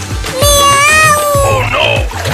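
A voice imitates a cat in a comedy sketch, giving a loud, drawn-out meow that rises and falls, followed by a shorter cry, with faint splashing water beneath.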